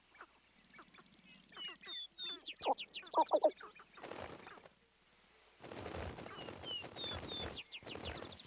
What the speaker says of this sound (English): In the early light of dawn, the dancing of the sharp-tailed grouse begins.